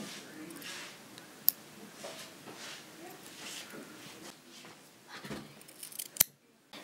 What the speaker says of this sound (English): Now I'm just gonna cut off these edges.